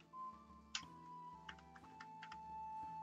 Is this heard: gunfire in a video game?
no